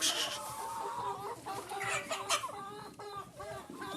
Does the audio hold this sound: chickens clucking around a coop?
yes